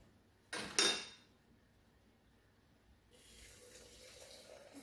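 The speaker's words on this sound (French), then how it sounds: "Je verse l'équivalent d'un petit verre d'eau bouillante. Et je rince." Boiling water poured over green tea leaves to rinse them: a short clatter at the start, a quiet pause, then a steady, soft pouring hiss that carries on to the end.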